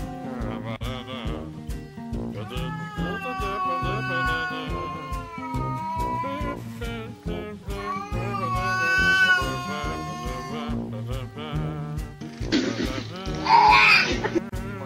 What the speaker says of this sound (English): This cat is making a funny conversation with another.